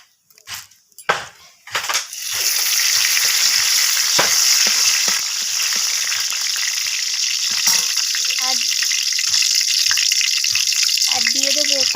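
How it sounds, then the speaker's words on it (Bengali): Whole cumin, dried red chilies and bay leaves sizzle steadily in hot mustard oil for a vegetarian khichuri tempering, a loud continuous hiss after a few clinks and clatters at the start, with occasional stirring knocks. "তো ফোড়নটাকে একটু নাড়াচাড়া করে ভাজা ভাজা করে নিচ্ছি"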